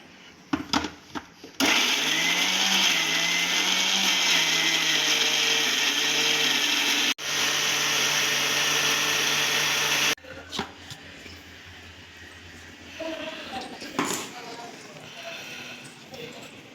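A mixer grinder whirs loudly and steadily for about eight seconds while grinding ginger and garlic into paste, pauses briefly, runs again, then stops; light clatter and talking come before and after.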